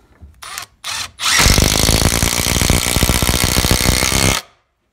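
A Milwaukee M12 Fuel impact driver drives a 4-inch Timberlock screw. Two short trigger bursts lead into one loud, continuous three-second run of rattling impacts that stops abruptly.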